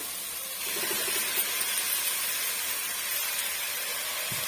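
Ground masala lands in a sautéing pan for an elephant foot yam and pigeon pea tamarind kuzhambu, starting a sudden loud, hissing sizzle that holds steady throughout.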